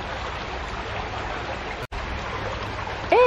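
A river flows near a hotel at Port Aventura, giving a steady broadband rush of water throughout, briefly cut by a short dropout, with a faint sound at the end.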